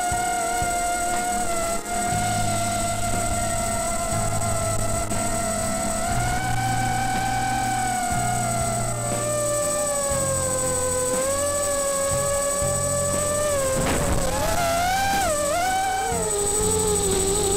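Tarot 250 mini quadcopter drone motors spinning up and running, a steady loud electric whine with layered tones that shift in pitch as the throttle changes, continuous and close throughout with no talking.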